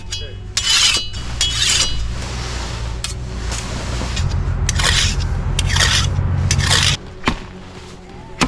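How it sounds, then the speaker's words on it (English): A hand file sharpens a chainsaw chain while felling local trees, with about eight distinct rasping strokes, each a short harsh scrape, close up over a low steady engine-like hum. "When sharpening with the file, you always keep your thumb or finger behind the plastic guard here."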